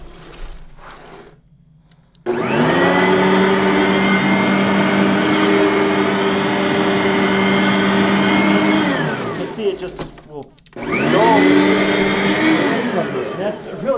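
A Simplicity Riccar R10 self-propelled upright vacuum runs loudly on low-pile carpet, a steady motor whine that cuts out briefly and then starts up again near the end, with no talk over it.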